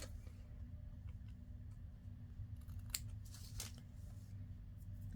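Scissors snipping through paper for a fold-out pocket insert craft, a few short crisp cuts near the end over a steady low background hum.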